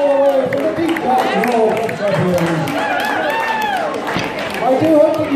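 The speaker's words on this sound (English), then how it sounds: "can we have a nice round of applause, please, for the Human Skin Fighters?" Crowd applause and cheering after a Bartitsu stick fighting demonstration at a steampunk event, lively clapping mixed with shouts and chatter, loud and close.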